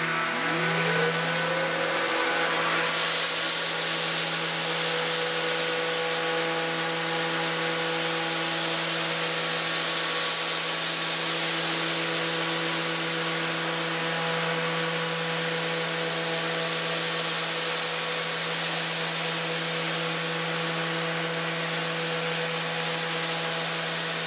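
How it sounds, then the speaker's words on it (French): Power sander working on wood veneer, spinning up with a rising whine and then holding a steady, loud motor drone with a constant hiss of abrasion throughout, no talking. "Prochaine étape, sablage."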